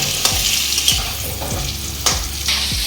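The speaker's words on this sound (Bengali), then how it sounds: "আলুটা ভেজে নেব" Potatoes seasoned with salt, turmeric and Kashmiri chilli powder fry in hot oil, a loud close sizzle broken by several sharp scraping stirs of the spatula in the pan.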